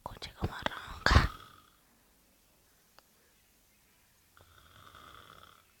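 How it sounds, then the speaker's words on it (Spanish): A person snores while asleep, with a few rough breathy snorts up front followed by a softer, drawn-out snore; someone whispers close by. "Escuche cómo ronca."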